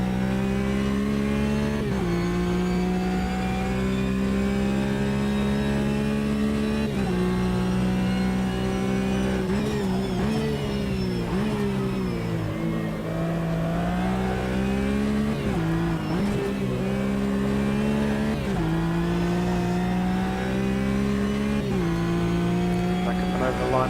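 A GT race car engine in the video game Automobilista 2 drones steadily and loudly throughout, its pitch rising and dipping through gear changes and revs, with faint talk underneath.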